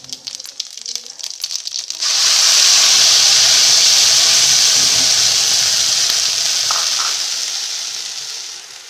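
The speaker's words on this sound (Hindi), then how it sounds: "हमारा तेल गर्म हो चुका है। तेल में हमें जीरा ऐड करना है" Cumin seeds dropped into hot oil for a methi matar malai sabji burst into a loud, steady sizzle after a few seconds of quieter clatter, then slowly ease off.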